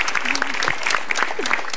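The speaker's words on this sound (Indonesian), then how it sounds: "Tepuk tangan dong buat Mbak Widi ya" Audience applause at a televised Indonesian stand-up comedy show, brisk and continuous, with individual claps and voices cutting through.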